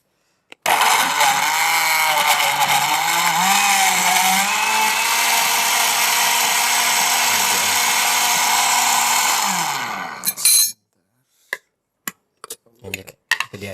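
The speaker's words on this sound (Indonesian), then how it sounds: "Kita langsung blender ya." A kitchen blender whirs steadily and loudly for about ten seconds, blending a herbal drink of water, honey and ingredients for stroke patients, then winds down and stops, followed by a few faint clinks.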